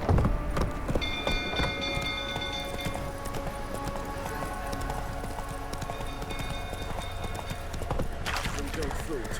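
Horse hooves clip-clopping steadily at a gallop in The Witcher 3, running under a voice and ambient game sound, with a brief whinny and faint rain-like patter in the background.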